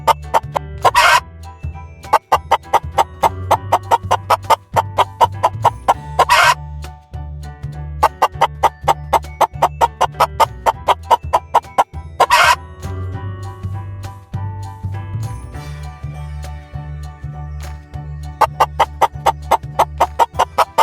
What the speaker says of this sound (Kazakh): Бұл тауық. Тауық ко-ко-ко-ко-ко,